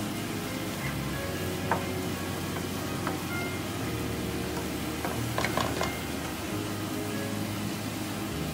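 Spring onions and onion frying in a pan give a steady, even sizzle throughout, with a few faint clinks of a utensil stirring near the middle.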